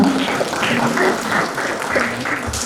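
Applause from an audience at a career and employer meeting, a continuous crowd clapping that holds steady throughout, with some voices and cheering mixed in.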